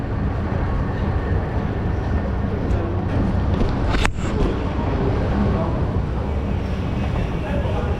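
Broadband station ambience with a steady low rumble, likely from a train, at a metro station in Thailand, continuous and fairly loud throughout, with a sharp brief clatter near the middle.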